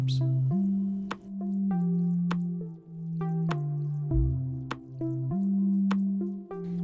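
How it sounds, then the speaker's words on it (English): Crops are watered in the Stardew Valley video game: short, crisp drip-like splashes repeat at an even pace over a soft, tonal background tune. "It's kind of boring to watch somebody water and, you know, plant crops."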